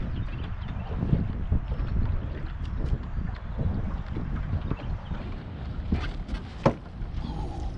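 Cold wind gusts across a lake at sunrise during pre-spawn bass fishing, a steady broadband rush with buffeting on the microphone and occasional small knocks from the boat.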